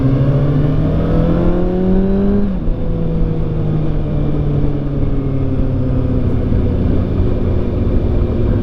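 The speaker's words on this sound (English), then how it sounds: "that quick shifter is just beautiful." Kawasaki ZX6R sport motorcycle engine revving loud and close, rising in pitch through gears with a quick shifter, a sharp drop at the shift then a steady high drone afterward.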